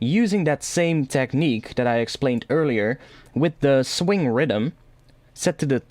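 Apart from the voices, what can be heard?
No distinct noise like a dog, phone or traffic.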